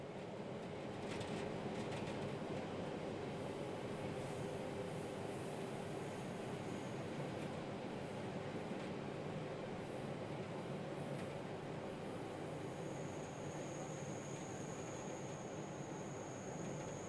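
A low, steady rumble of a passing train heard from a train cab on a Devon branch line, continuous throughout with a faint high whine appearing near the end.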